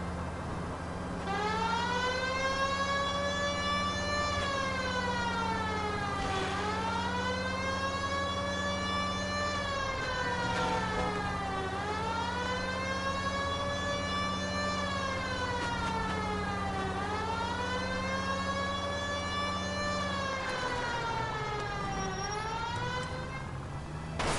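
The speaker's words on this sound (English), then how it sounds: "Put the siren on." A police car siren wails loud and close, rising and falling in long repeated sweeps over a steady engine hum, with no talk over it.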